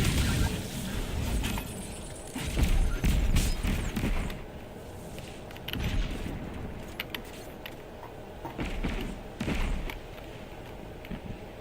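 Busy Destiny 2 firefight on PC: a grenade is thrown and bursts with heavy thumps among scattered gunfire and debris clatter, loud and close.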